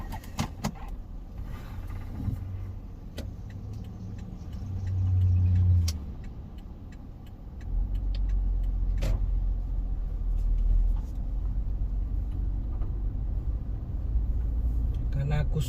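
A car driving to work in Philadelphia, steady engine rumble and road noise throughout with a few clicks and thumps from the cabin.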